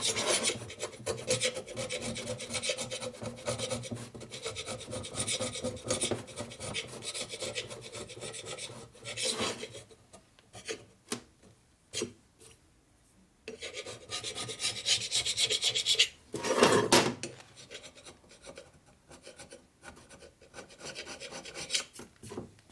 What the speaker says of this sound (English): So I got my carbide scraper here, which will remove powder.